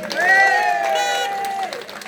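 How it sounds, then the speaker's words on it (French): Conference audience applauds at a French-language municipal election talk, a short burst of clapping and cheering that rises quickly and fades after about two seconds, with a voice over it. "Un applaudissement, s'il vous plaît."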